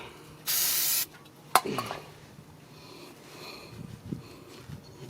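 Lubricant sprays in one short, loud hiss from an aerosol can onto the rear brake parts of a 2006 Nissan Frontier during a brake pad job, followed by faint clicks and handling noise.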